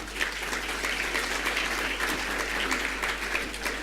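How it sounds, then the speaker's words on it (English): Awards-night audience at the Enterprise NI Awards claps continuously, a full, even burst of applause filling the room with a low hum beneath. "So give yourselves all a round of applause."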